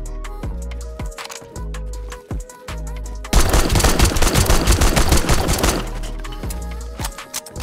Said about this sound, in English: Got the machine gun ready.